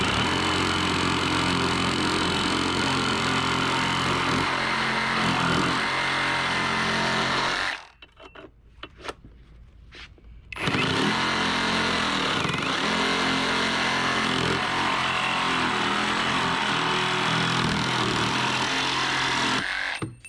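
A Harbor Freight Hercules brushless reciprocating saw runs loud and close with a steady buzzing drone, cuts off for about three seconds, then starts again and runs steadily to the end.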